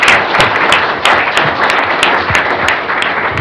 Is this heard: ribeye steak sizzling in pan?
no